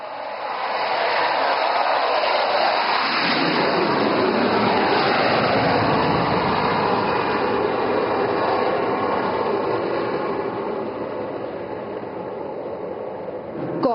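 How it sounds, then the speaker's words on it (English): Fighter jets make a low overshoot above an emergency landing airstrip in Dibrugarh, a loud, sustained roaring jet rumble that holds steady for most of the stretch and eases slightly toward the end, with no talk. "Abhimanyu 2 and 3 will carry out a low overshoot over the ELF and number 1 will land"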